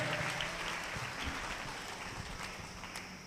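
A church congregation claps during a Telugu sermon, a fairly faint but continuous patter of many hands with no speech over it.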